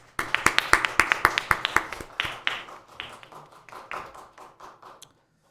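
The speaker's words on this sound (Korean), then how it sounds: "우리 같이 반갑고 예수님의 이름으로 축복하면서 박수로서 환영을 하겠습니다" A church congregation claps in welcome for a newly registered member, a quick burst of sharp overlapping handclaps that starts strong, then thins and fades over about five seconds, with no voices over it.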